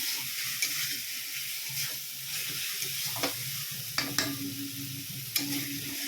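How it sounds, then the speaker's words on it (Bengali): Spices with green chillies fry in a pan, giving a constant close hissing sizzle broken by several sharp scrapes and clicks as a spoon stirs them. "এই যে মশলাটা একটু ভাজা ভাজা করে নিলাম।"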